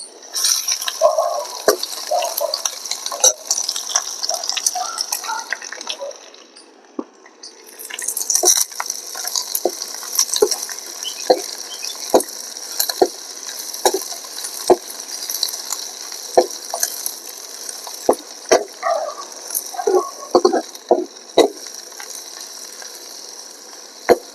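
Garlic, green chili and onion fry in a pan with a steady high sizzle, while sharp spatula clicks and scrapes against the pan come irregularly throughout, close and moderately loud.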